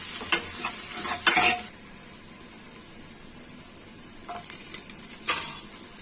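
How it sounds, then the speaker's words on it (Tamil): Big onions sautéing in a pan give a steady hiss of frying, with a few brief scraping stirs of a spoon near the start and again toward the end, and no voices. "பெரிய வெங்காயம் சேர்த்து நல்லா வதக்கி விடலாம்"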